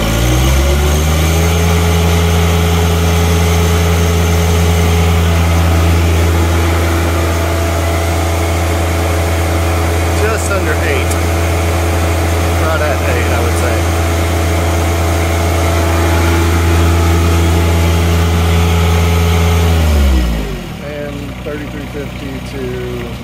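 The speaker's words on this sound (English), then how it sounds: "wide open throttle." A John Deere 1025R compact tractor running a log splitter with a HydrosPlus Extreme kit drones loudly and steadily at wide open throttle for about twenty seconds, then the engine note drops and winds down.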